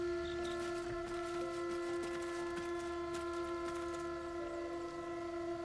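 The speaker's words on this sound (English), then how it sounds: "And that's a train." A train heard within a video game, a sustained steady rumble with bright tonal lines like a distant horn or whistle, continuous and fairly faint, with no talking.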